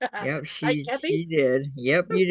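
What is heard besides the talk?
No everyday noises stand out.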